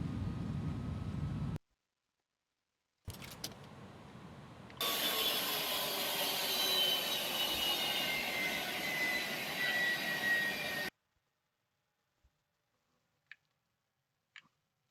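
Airbus A300-600 freighter jet engines roaring under reverse thrust during landing rollout in X-Plane 11, a loud sustained broadband rush of several seconds that cuts off abruptly, followed by a few faint ticks.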